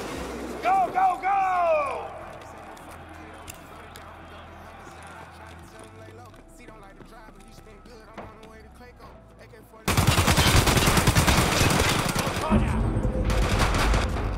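Dense, loud bursts of automatic gunfire fill the second half in the Tarkov Arena video game, preceded by quieter, sparse shots and movement, with a voice briefly speaking early on.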